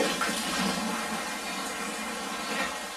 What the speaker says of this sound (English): I personally just like to have a little bit of water in the bottom of the bucket